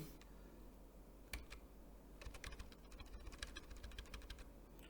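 Quiet, rapid keyboard typing in irregular bursts of clicks, close by, with a single louder tap before the flurry and no speech.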